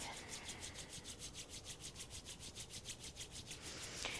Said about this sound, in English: rub our hands together in front of our heart